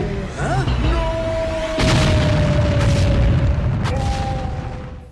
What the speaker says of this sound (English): instantly setting off a fiery explosion